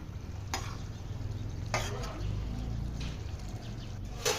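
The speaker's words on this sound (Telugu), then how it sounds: "ఇప్పుడు లెగ్ పీసెస్ వేసి కలుపుకొని మనము ఫ్రై" Chicken leg pieces frying in a pan in catering-style red chicken fry, a soft steady sizzle broken by a few sharp scrapes and clinks of stirring, fairly quiet.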